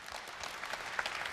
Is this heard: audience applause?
yes